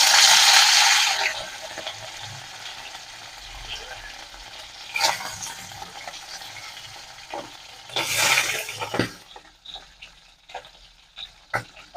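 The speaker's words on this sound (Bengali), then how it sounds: "তেল গরম হয়ে গেছে, এবার আমি এই মাছগুলোকে ভেজে নেব।" Saating sea fish fry in hot white oil with a bright, steady sizzle that surges at the start and flares again in a few stirring bursts, close and loud.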